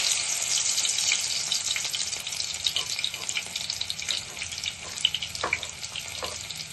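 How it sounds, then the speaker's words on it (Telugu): Crushed garlic cloves fry in hot oil with a steady, dense crackling hiss, heard up close throughout and occasionally punctuated by sharper pops and brief stirring clicks, with no talking. "ముందుగా వెల్లుల్లి రెబ్బలు చెదగొట్టి వేసుకోవాలి"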